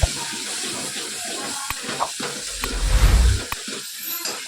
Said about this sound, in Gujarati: સરસ રીતે મિક્સ કરી લઈએ.